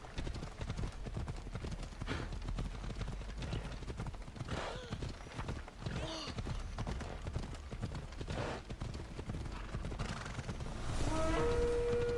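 Horse hooves clip-clop in a steady galloping rhythm beneath a busy game soundscape in Assassin's Creed Odyssey, ending with a short whinny and a tonal chime.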